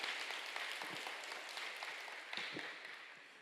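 A church congregation applauding during a sermon, a fairly quiet patter of many hands that fades slowly over a few seconds.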